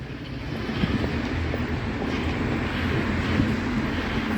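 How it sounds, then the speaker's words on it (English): Trams rumble along Erzsébet körút, a busy city street in Budapest, producing a steady low roar of traffic that fills the whole stretch without pause. "Trams run up and down all night."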